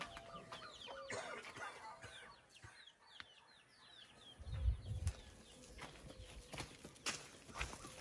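Chickens clucking and calling outdoors in the Huasteca Potosina, Mexico, with scattered bird chirps and a low thump or rustle midway; no talking.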